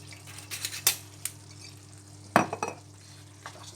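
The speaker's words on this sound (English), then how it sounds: "That's a nice stir through." Stirring lemon sole in an Italian-style sauce with white wine in a pan, with a few scraping, clinking strokes against a steady sizzle of frying and no talk.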